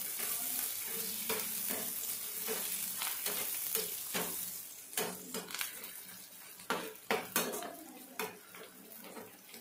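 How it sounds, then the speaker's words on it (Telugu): Onions frying in a pan with mint and coriander added, a close sizzle under repeated clinks and scrapes of a metal spoon against the pan, growing more sporadic toward the end. "తర్వాత ఇందులోనే పుదీనా, కొత్తిమీర ఇది కూడా వేసి బాగా ఫ్రై చేయాలి."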